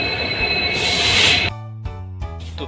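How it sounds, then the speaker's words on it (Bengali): Bikaner–Sealdah passenger train at a station, a loud steady rumble with a rising wheel squeal that cuts off, followed by quieter low hum and intermittent clanks and rattles of the carriages. "অনেক অপেক্ষার পর আমাদের ট্রেন এসে গেছে, তো এখন ট্রেনে উঠে যাব"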